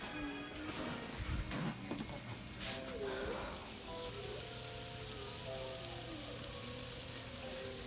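Slices of garden-grown acorn squash and yellow long neck squash frying in a pan, a steady close sizzle and crackle running throughout with brief stirring or scraping sounds early on.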